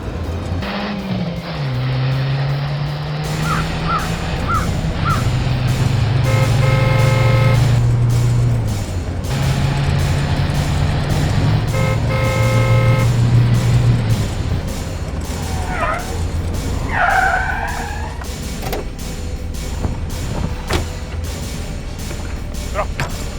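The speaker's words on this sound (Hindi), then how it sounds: "दया, वो रहा, जल्दी भगाओ, ओवरटेक करो उसे।" Cars speeding in a chase through a crime-drama scene, with engines roaring and revving as vehicles rush past at close range. Shouted dialogue and music run over the engine noise throughout.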